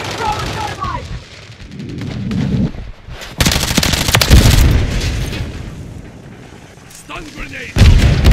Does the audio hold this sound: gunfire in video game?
yes